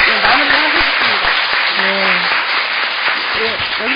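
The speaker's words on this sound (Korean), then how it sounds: "다시 한번 큰 박수 부탁드립니다" Audience applause at a Korean panel discussion on working conditions for school nutritionists, sustained dense clapping throughout, fairly loud, with a voice briefly audible over it.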